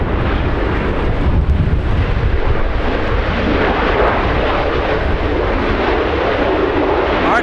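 An Airbus A380 airliner takes off at Los Angeles International Airport, its engines a loud, continuous roar heard close by from start to finish.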